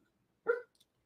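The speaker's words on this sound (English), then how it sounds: "Sorry for the dog barking. I don't know what he barking at." A single short dog bark sounds from a room nearby, moderately loud and alone, followed by a faint small yip.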